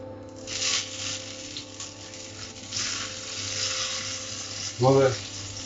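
Pork sizzles and crackles steadily in a hot pan, close by, with a brief clunk of a utensil near the end.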